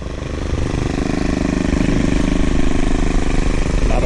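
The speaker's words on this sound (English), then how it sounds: "I'm out here trimming some of these bushes" A powered hedge trimmer cutting bushes outdoors during landscaping, a loud, steady, buzzing motor drone held close and continuous throughout.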